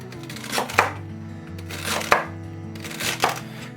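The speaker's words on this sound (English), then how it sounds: "we're going to take our celery. We're just going to go ahead and thinly slice this up" A knife slices thinly through celery on a cutting board, three crisp chopping bursts with short pauses between them, close and clear.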